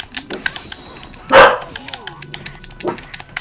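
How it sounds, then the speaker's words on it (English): Dogs barking indoors, one loud sharp bark in the middle and a softer bark later, with scattered light taps and background noise around them. "Even my fucking dogs are getting in on it now."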